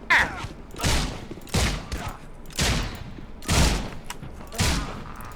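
Gunfire in the video game Sinking City: six heavy booming shots spaced roughly a second apart, each with a short decaying tail, loud and close.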